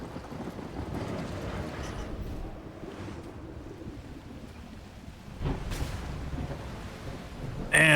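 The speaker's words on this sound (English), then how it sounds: "I think I'm going to wait out this storm" A thunderstorm in the video game The Last Caretaker brings steady rain and deep rumbling thunder, with a louder crack of thunder and a sharp burst near the end.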